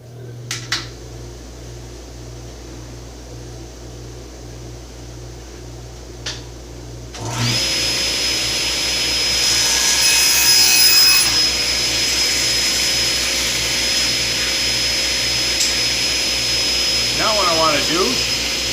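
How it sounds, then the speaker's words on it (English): Dust collector in a woodworking shop switches on partway through, cutting from a quiet hum into a loud, steady whooshing roar with a faint high whine that holds to the end. "I guess I'll turn the dust collector on"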